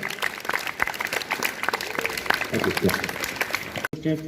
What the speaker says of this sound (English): Give her a big round of applause once again.